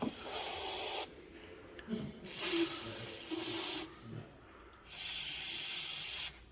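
Brake cleaner used as starting fluid is sprayed from an aerosol can into each cylinder of a long-idle Ski-Doo ZRT 600 triple snowmobile engine: three loud, close hissing bursts of about a second each, with short pauses between.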